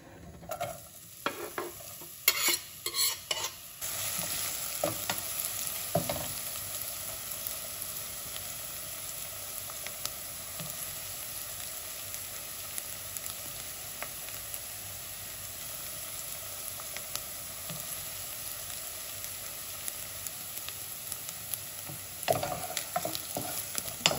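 Onions fry in oil in a pan for coriander rice pulao, with a continuous close sizzle and bursts of scraping, clattering stirring at the start and again near the end.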